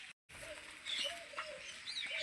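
Small birds, sparrows gathering outdoors to eat sev in rainy weather, give several short high chirps over a steady background hiss, with a brief silent gap near the start.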